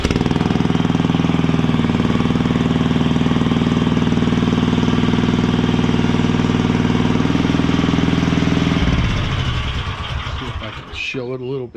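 A mini skid steer engine runs loud and close, a steady rough idle for most of the stretch before it drops off near the end.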